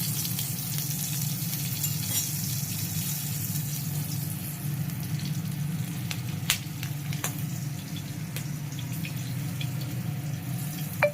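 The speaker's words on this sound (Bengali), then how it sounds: "এবার আমি ওই তেলের মধ্যে, মাছ ভাজার তেলের মধ্যে কালো জিরে আর কাঁচা লঙ্কা ফোড়নে দেবো।" Nigella seeds and green chillies sizzle in a shallow layer of hot oil left over from frying fish, a loud, dense, continuous crackling hiss close to the pan with occasional sharp pops.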